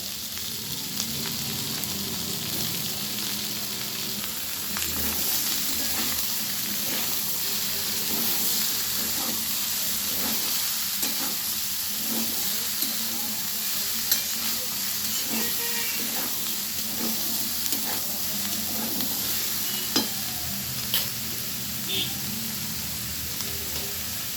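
Chopped bottle gourd frying in a pan gives a continuous close sizzle and hiss, with scraping and clinking of stirring scattered throughout.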